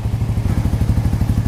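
A motorcycle fitted with a Smoke muffler exhaust, revved up to about 11,000 RPM yet sounding close to a stock exhaust, gives a steady, close, throbbing drone with rapid even pulses and no voices.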